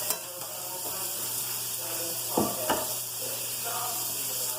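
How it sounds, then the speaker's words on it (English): Ingredients sautéing in a pan for broccoli cheddar soup in a home kitchen, a steady soft sizzle with a few sharper clinks of stirring near the middle. "we're going to saute this up"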